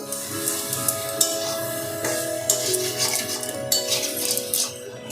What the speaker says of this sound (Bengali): এক চামচ ঘি দিলাম এবারে একটু নেড়ে পুরোটা মাখিয়ে দেবো